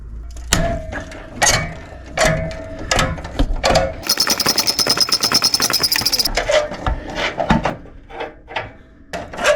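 A ratchet socket works corroded 14mm exhaust bolts loose on a 2008 Smart Fortwo Pure 451. Loud irregular clanks and knocks come first, then about two seconds of rapid continuous ratcheting clicks, followed by more scattered metallic taps.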